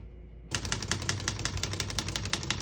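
A 1961 Olivetti Lettera 31 portable typewriter starts clacking after a short quiet lead-in, its keys striking in a fast, fairly even run of sharp close taps with no voices.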